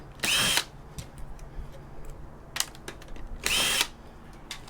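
A power drill whirs in two short, sharp bursts as screws are backed out of scrap material, with faint clicks and handling noises in between in a quiet space.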